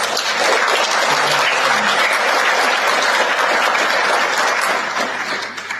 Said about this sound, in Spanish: Demos un aplauso para esta persona que ha aceptado a Cristo.